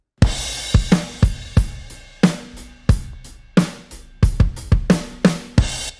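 Drum kit recorded in a small home studio room, with loud, punchy close hits of kick, snare and crash cymbals forming an irregular groove of sharp strikes and ringing decay.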